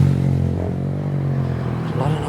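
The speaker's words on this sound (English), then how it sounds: "A lot of noisy motorbikes." Motorbikes drone along a quiet residential street in Soi Pa Lai, Phuket, a steady rumbling engine hum with a slight rise near the end, heard under a speaking voice.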